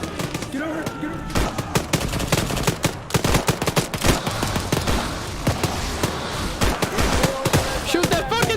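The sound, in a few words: gunfire in the video game Arma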